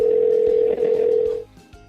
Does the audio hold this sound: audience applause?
no